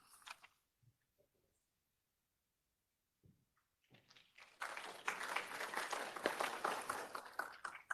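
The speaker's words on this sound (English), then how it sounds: "thanks for the applause" Audience applause at a civic presentation, quiet scattered sounds at first, then a burst of many hands clapping that carries on steadily and moderately loud.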